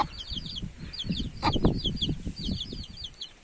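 Chickens clucking and chattering nearby, steady low clucks with occasional higher calls, no talking.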